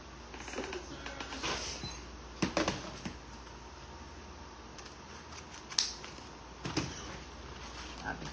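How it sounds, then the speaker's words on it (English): Scissors snipping ribbon while a Christmas snowman wreath is assembled, several short crisp cuts scattered over a faint steady room hiss. "Scissors."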